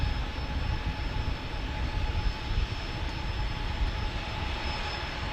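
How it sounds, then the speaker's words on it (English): A United Airlines Boeing 737-900 taking off at San Diego airport, a loud continuous jet engine roar with a broad steady rumble heard from the ground without a break. "Taking off on a 737-900."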